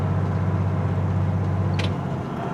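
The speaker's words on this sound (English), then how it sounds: "When the truck is just loud like that, just let it quiet down." A semi truck engine roars loudly at high RPM, a steady deep drone close by that holds for about two seconds before easing off slightly, with a brief hiss near the end.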